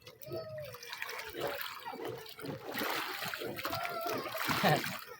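Sea water splashing and sloshing in irregular bursts, with excited voices calling out over it throughout.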